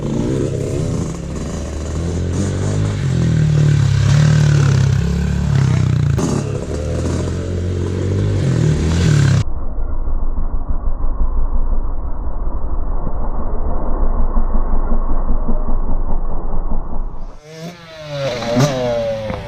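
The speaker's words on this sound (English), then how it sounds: "Love the sound of that two-stroke." Yamaha YZ65 two-stroke dirt bike revving loudly and steadily at close range, then dropping to a lower, rougher drone before a brief burst of higher-pitched revving near the end.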